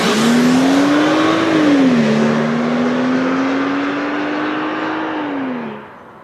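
A 2013 BMW X1 xDrive35i accelerates hard with a loud, close engine drone. The pitch climbs, dips at a gear change, rises again, then eases off near the end.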